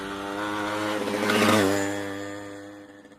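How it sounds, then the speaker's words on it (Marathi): A motorcycle engine approaches, swells to a loud drone as it passes close by, then fades away over about three seconds, with no voices. "look at that motorcycle"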